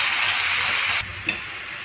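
Onions sizzling steadily in hot oil in a pan for mutton fry, a loud continuous frying hiss that drops slightly as they are stirred apart, with a small scrape of the spoon.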